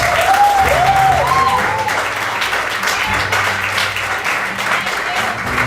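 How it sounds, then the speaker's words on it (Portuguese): A church congregation applauds during a sermon, a steady wash of clapping alongside a few rising tonal sounds at the start and a low sustained hum underneath. "Pode aplaudir!"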